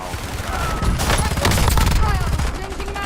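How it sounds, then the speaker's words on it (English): Dense, continuous gunfire fills a video game shooter battle, rapid overlapping shots and booms running throughout at close range with a voice faintly underneath. "Bro, who is shooting me from behind?"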